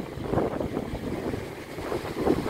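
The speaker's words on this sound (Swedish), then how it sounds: "Sjöbrisen. På försommaren." Early-summer sea breeze at a coastal surf spot buffets the microphone in rough, continuous gusts, with the low wash of waves underneath.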